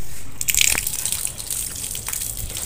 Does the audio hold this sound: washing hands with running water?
yes